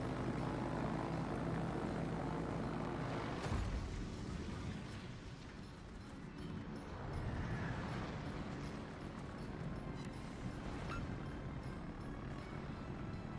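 Torpedo planes in a naval video game give a steady, loud propeller-engine drone that continues throughout with a broad rumbling roar and a brief surge partway through.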